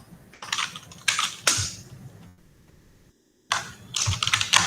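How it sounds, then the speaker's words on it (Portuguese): Typing on a computer keyboard over an open microphone in a live online class: bursts of rapid clicking keystrokes, close and fairly loud, broken by a brief pause before the tapping resumes. "Bom, o Rodrigo, você está com seu microfone aberto, está digitando."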